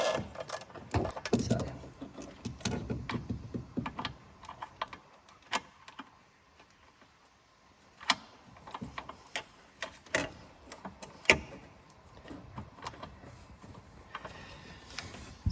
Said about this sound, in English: So I'm using this flexi head thing because it sort of fits into these weird places, which just makes life a lot easier.